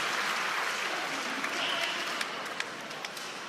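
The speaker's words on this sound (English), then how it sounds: "The crowd is dazzled." Crowd applauding at a Major League Pickleball team match in Columbus, Ohio, a steady wash of clapping and cheering that carries on throughout with a few sharper claps standing out near the end.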